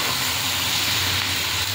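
Onions and cashews fry in a pan for a kurma gravy, giving a steady, loud, even hiss of sizzling oil that holds without a break.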